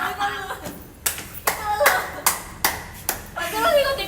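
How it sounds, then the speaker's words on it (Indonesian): A person claps their hands in the style of children, about seven sharp, evenly spaced claps close by, mixed with talking between them. "tau gak sih bocah-bocah yang kalau tepuk tangan begini?"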